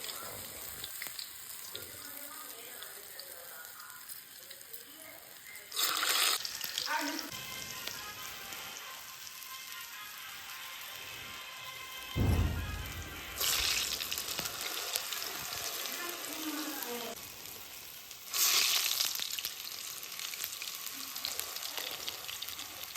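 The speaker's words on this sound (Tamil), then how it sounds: "இப்போ இந்த மாதிரி தட்டிட்டு எண்ணெயில் போட்டுக்கலாம்." Ulunthu vadai, flattened urad dal fritters, frying in hot oil: a continuous bubbling sizzle with several louder surges as more batter goes in, plus some watery splashing in between.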